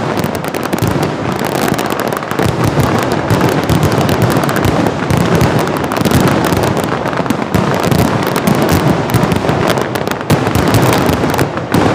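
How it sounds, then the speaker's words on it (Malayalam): Sample fireworks display at the Pooram festival, with dense, continuous bursts of firecrackers and explosions rattling loudly and rapidly for the whole stretch, like a roaring barrage with no pauses. "പൂരനഗരിയുടെ മാനത്ത് കരിമരുന്നിന്റെ വിസ്മയം തീർത്ത് സാമ്പിൾ വെടിക്കെട്ട്."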